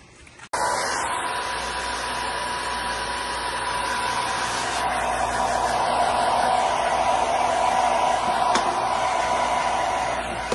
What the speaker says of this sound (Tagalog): Ayan, so blower na natin.